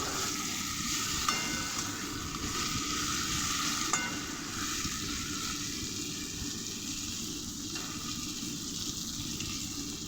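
Potatoes and soybeans frying in a pan, a steady broadband sizzle with a couple of sharp clinks of a spatula against the pan, continuous and close, with no talking.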